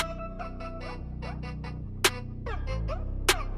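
Offset snare pattern in a UK drill beat: two sharp snare cracks land off the usual backbeat over a looping melodic synth line and deep bass, playing steadily without any talking.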